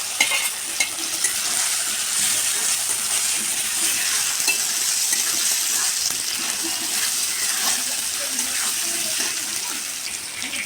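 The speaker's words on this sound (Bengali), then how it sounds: "কাঁচা লঙ্কা একটু ভেজে নেব। এবারে দিয়ে দেবো আলু, সেদ্ধ করা আলু।" Green chilies and boiled potatoes fry in a pan with a steady, close, bright sizzle and occasional stirring scrapes throughout, with no talking.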